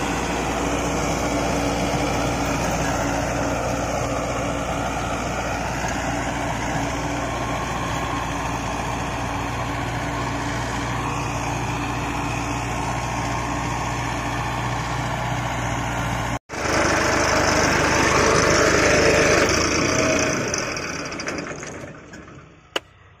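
An Arjun 555 DI tractor pulls a Shaktiman 7 ft rotavator, its diesel engine droning loud and steady with a rattling, whirring churn; after a brief cut the sound returns slightly brighter, then fades near the end.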